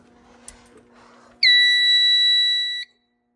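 During a monthly fire alarm system test, an electronic alarm sounder lets out a single loud, steady high-pitched tone lasting just over a second, then cuts off, after faint background noise.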